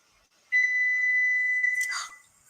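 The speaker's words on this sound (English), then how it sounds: "I forgot to turn off the oven timer. I turned off the oven and not the oven timer. So now it's going to beep until I turn it off." A kitchen oven timer sounding one steady, high electronic tone that holds for about a second and a half before cutting off, loud and close in an otherwise quiet room.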